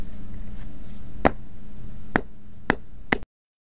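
A large long-handled sledgehammer strikes a garden stone four times in irregular succession, each blow a sharp, loud, close impact over a steady low background hum.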